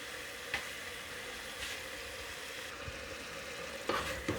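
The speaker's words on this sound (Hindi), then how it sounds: "हमारा मसाला भून जाए।" Masala sizzling as it fries in a pan for turnip bharta, a steady, close crackling hiss with a few sharper pops and scrapes, no voices.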